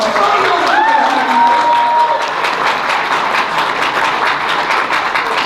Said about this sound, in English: Alright, give him a round of applause.